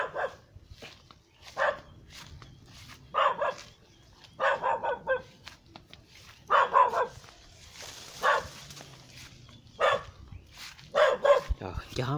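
A dog barks in repeated short bursts outdoors on a sunny afternoon at an orange orchard in Đồng Tháp, the barks fairly close and interspersed with people talking.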